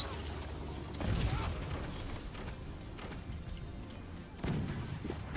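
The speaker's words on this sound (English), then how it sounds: "Horribly timed fire beam." Fire beam weapon blasting in the Forts real-time strategy game, with deep booming bursts around one second and again near four and a half seconds over a steady rumbling battle din of mechanisms and impacts.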